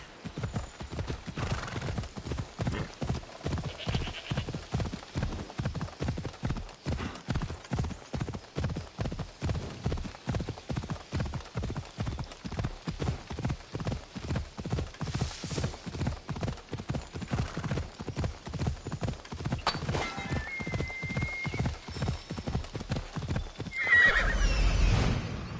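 Horse hooves galloping in Assassin's Creed Odyssey, a steady rapid clip-clop rhythm that runs without a break, close and loud, with a brief whinny near the end.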